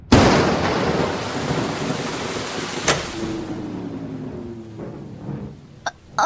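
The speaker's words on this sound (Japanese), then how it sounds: "外は雷、雨もすぐに降り出して。" Heavy thunder rumbles loudly and breaks over steady pouring rain. The noise fades toward the end as a few sharp clicks come through.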